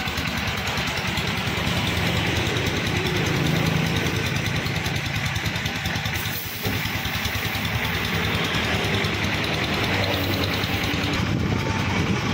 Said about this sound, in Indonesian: Ini mesinnya masih bagus banget ya.